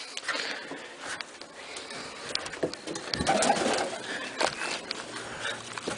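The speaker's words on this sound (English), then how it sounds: "So it is literally a miracle that my pigeons in here are all healthy." Pigeons coo inside a loft, overlapping soft throaty calls with rustling and shuffling, fairly close and continuous, with no talking.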